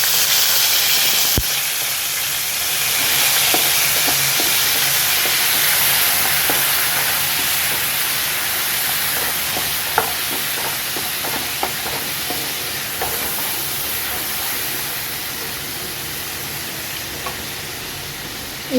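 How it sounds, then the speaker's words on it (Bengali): Katla fish curry in a frying pan, where turmeric, cumin powder and water go in, giving a loud, steady sizzle and hiss with steam, a few soft clinks and a stir over the bubbling. "দিয়ে দেব হলুদ গুঁড়ো আর একটুখানি জিরে গুঁড়ো, একটুখানি জল দিয়ে দেবো।"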